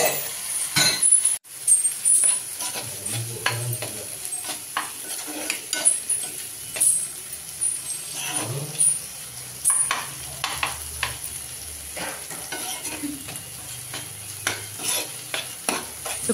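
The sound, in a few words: potato and spinach (aloo palak) frying and stirred in oil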